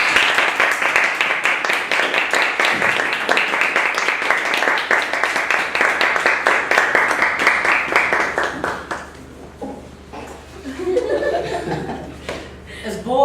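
A large audience at a Toastmasters club meeting claps in a dense, sustained burst of applause that fades out, with some chuckling and a voice following afterward.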